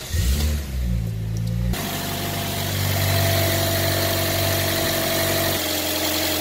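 Toyota Yaris engine idles close by with a steady mid-pitched hum and faint vibration, following a brief rougher rumble at the start; the tone drops slightly near the end.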